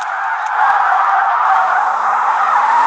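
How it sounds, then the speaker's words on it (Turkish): A Toyota Alphard minibus drifts in the video game Car Simulator 2, giving a loud, sustained tire screech that holds steady for about three seconds alongside a low engine tone. "Gene bir drift testine bakalım."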